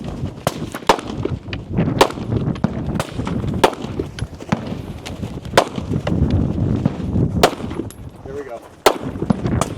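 Pistol shots ring out in a rapid, irregular string of sharp cracks during a men's 60+ regional shooting competition stage, loud and close over a steady background din.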